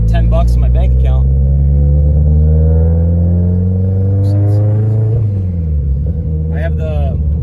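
A car engine fitted with an Exedy twin disc HD clutch, running without boost, revs up and settles in a steady loud drone with rising and falling pitch, while someone talks excitedly over it.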